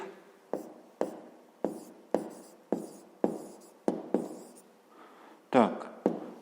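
Handwriting on paper during a fifth-grade maths exercise: a series of short, evenly spaced strokes and taps, close and quiet, with no talk.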